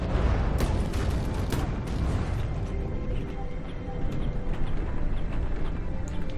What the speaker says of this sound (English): Explosion does fling it forwards